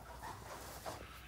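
A dog nearby gives faint short whimpers and soft panting over a quiet room background.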